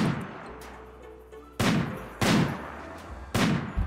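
Gunshots in RimWorld, three sharp, loud reports spaced roughly a second apart, each with a short decaying tail, over a faint background hum, with no voices.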